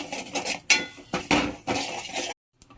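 Cumin seeds dry-roasting in a pan for masala powder rattle and clink in short bursts as they are tossed, close and fairly loud, then stop abruptly into near silence with one faint tap.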